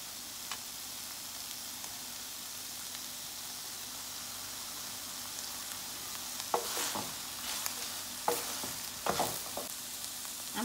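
Carrots fry in a pan for a vegetable and soya chunk chowmein. A soft, steady sizzle gives way to a few sharp stirring clatters and bursts in the second half.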